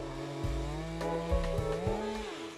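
Big Stihl chainsaw, MS 201 to MS 462 class, cutting a large tree: a loud, close engine whine that rises and dips in pitch under load, heard alone.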